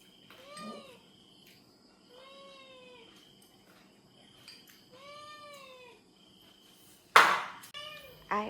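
A pet cat meows repeatedly before dinner in a home in Vietnam, three drawn-out calls spaced a few seconds apart, fairly close, with a sharp clatter near the end.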